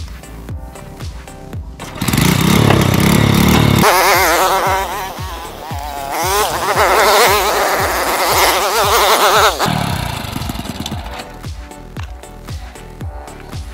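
A vehicle engine filled with water in place of engine oil, restarted after the cap is refitted, runs loud and rough with a wavering, revving pitch for several seconds before settling back to a lower, uneven idle.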